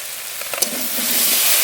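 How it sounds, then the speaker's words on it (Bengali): Fish heads drop into a hot pan holding cumin and green chili paste, and a few sharp crackles swell into a loud, close, rising hiss of frying. "দুটো মাছের মাথা দেবো"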